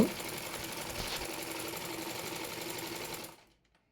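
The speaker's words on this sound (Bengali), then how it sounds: "রাবার সেলাইয়ের জন্য প্রথমে দুই সুত কাপড় মুড়িয়ে সেলাই দিয়ে নেব" An electric sewing machine stitches folded cloth for a palazzo salwar's elastic casing, a fast, even whirring run for about three seconds before it cuts off sharply into silence.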